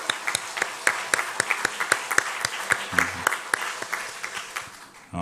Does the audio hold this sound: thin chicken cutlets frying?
no